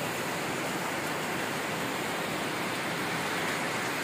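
Rushing floodwater in a flooded area where fallen trees are being swept along, a constant roaring hiss of moving water that stays steady and uniform, heard moderately loud with no voices over it.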